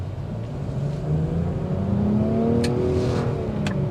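A 2023 Nissan Rogue Platinum's small turbo engine revving up steadily, its pitch climbing as it accelerates, close and continuous with a couple of brief clicks near the end.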